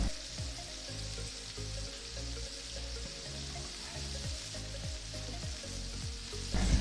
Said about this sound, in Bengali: পেঁয়াজ ততক্ষণ ভাজবো যতক্ষণ না পেঁয়াজের কাঁচা গন্ধ চলে যায়